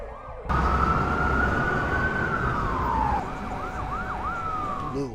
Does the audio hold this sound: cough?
no